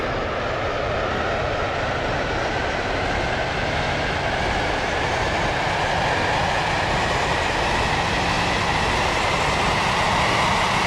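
A passenger train runs steadily on rails, giving a continuous, close rumble and rolling wheel noise that holds an even level without a break.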